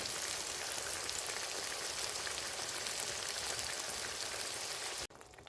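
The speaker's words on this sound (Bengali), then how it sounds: "মাছের আলুগুলোকে ভাজছি।" Potatoes for a Bengali fish curry fry in hot oil in a pan, giving a dense, steady sizzle heard close up with no talk before it cuts off abruptly near the end.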